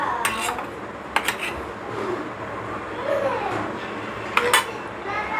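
A spoon scrapes and clinks against a bowl while bitter gourd stuffing is mixed with lemon juice, salt and turmeric. There are a few sharp clinks and a steady soft scraping, with faint background noise.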